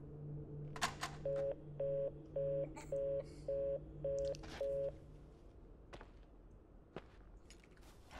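A cell phone in the video game Rachel Foster plays a run of eight evenly spaced dialing tones over a steady low hum, followed by a few sharp clicks and thuds.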